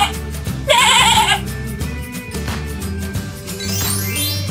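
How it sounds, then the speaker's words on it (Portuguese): A toy sheep sound effect bleats once, a short wavering baa heard loudly over cheerful looping background music, followed by continuing music alone. "Ovelha."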